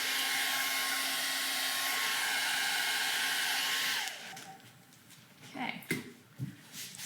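A hair dryer blows a steady, loud, close whir for about four seconds while drying paint on a wooden sign, then cuts off, leaving quiet handling noises and brief faint sounds.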